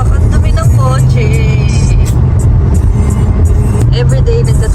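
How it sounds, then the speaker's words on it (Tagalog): Steady roar of busy road traffic with many cars rushing past close by, loud and continuous, with a voice speaking over the flow. "Ang dami ng kotse."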